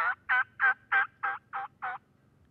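Seven evenly spaced, sharp yelping cutt calls like those of wild turkey hens, repeating in a steady rhythm and fairly close and clear, with no other sound around them.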